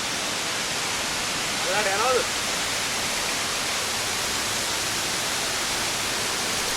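Secret waterfall in Sri Lanka, a steady broadband roar of falling water heard close and continuous, with a brief voice-like sound around the second second.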